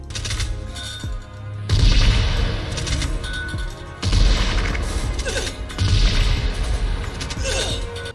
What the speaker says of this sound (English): When she was shooting that shotgun,